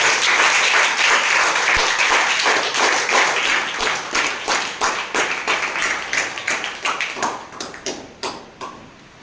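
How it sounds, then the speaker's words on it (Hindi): Students in a classroom assembly clap loudly together, a thick roar of applause that gradually breaks into separate, fading claps over about nine seconds. "इस सदन की शुरुआत जोरदार तालियों के साथ"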